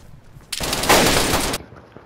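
Rapid automatic gunfire in the survival game DayZ, a loud dense burst lasting about a second, close and alone with no talk.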